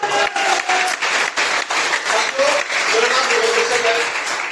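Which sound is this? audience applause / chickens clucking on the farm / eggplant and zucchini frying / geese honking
audience applause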